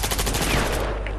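Rapid, dense bursts of automatic gunfire from a Battlefield 4 clan-war match, loud and continuous throughout, with overlapping shots that blur into sustained fire.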